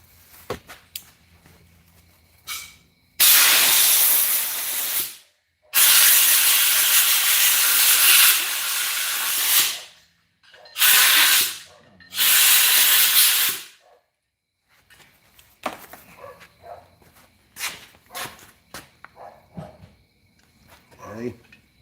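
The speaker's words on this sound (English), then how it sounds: "See that air hose, we're gonna blow this out." A compressed air hose blasts a part clean in a garage: four loud, sharp hissing bursts of varying length, the longest several seconds, followed by quieter clatter and brief voices.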